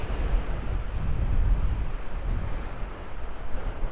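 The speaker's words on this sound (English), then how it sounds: "A little beach here." Surf washing onto a small beach along a trail in Michigan's Upper Peninsula, a steady low rumble of waves with some wind noise across the microphone, no talking.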